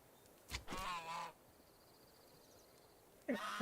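Geese in the farming game Society: Sunlit Valley let out two short bursts of honking a few seconds apart, with a faint electronic tone drifting between them.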